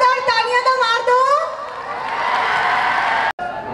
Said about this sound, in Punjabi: ਸੋ ਜ਼ੋਰਦਾਰ ਤਾਲੀਆਂ ਨਾਲ ਸਵਾਗਤ ਕਰਦੇ ਹਾਂ